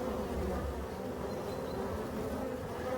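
Dense, steady buzzing of many honeybees working at busy hives in an apiary, a continuous droning hum filling the air with no break and no voices.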